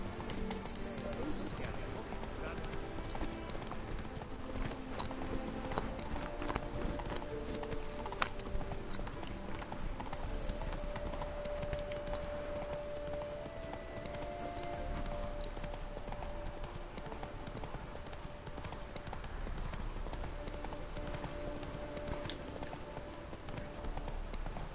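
Roach, Geralt's horse in The Witcher 3, gallops with quick, rhythmic hoof clip-clops that run steadily throughout, set against game ambience and music, while voices talk over it at times.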